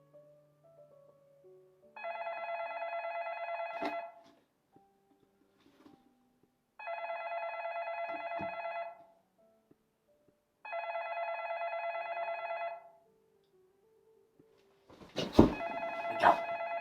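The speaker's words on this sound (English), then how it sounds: "The phone again." A telephone rings in three long electronic trills with silent gaps between them, loud and close in a quiet room, followed by a short clatter at the end.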